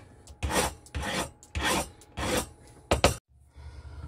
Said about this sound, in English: I'm going to spend some time filing